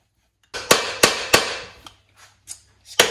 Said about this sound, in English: That's the main shaft coming through there.